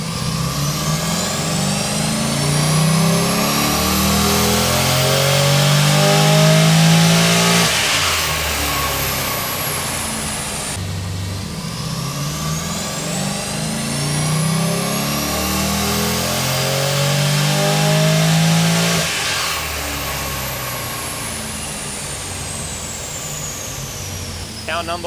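A car on a dyno is run up at full throttle, its engine revving loudly in two long rising sweeps that each climb to a high-pitched peak before dropping back.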